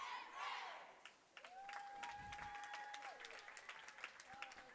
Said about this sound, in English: you could hear the crowd getting into the chant with the cheerleaders that time